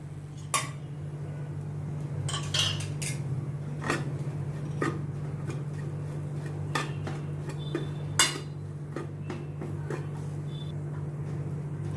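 Corn and mashed potato mixture with salt being mixed in a pan, spoon or utensil scraping and clinking against the metal at irregular intervals over a steady low hum, no voices.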